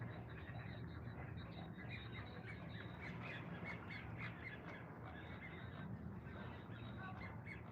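Hundreds of ducks being fed make a dense, continuous wall of squawks and quacks, a busy flock chorus that stays steady and fairly distant throughout with no talk.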